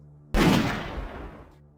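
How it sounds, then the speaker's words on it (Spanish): A single loud gunshot cracks suddenly and hard enough to distort, then decays into a ringing, reverberant tail over about a second in an otherwise quiet space. "Se oyó un disparo,"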